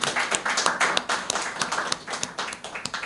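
Applause at a book launch event: a small group claps in quick, uneven bursts, close and fairly loud, with a brief dip in the middle before the clapping resumes.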